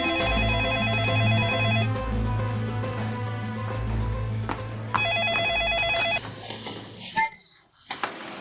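A telephone rings with a repeating electronic trill, loud and steady over a music-like background, before cutting off as it is answered and people talk.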